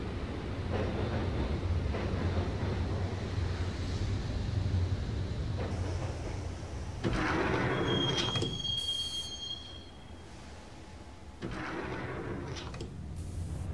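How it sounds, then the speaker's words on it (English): Subway train riding in a Max Payne game, a continuous rumbling rail roar with squealing wheels and a high screech midway, loud and close throughout, changing intensity as the car moves. "the train doors had already shut behind me, and I was in for the ride"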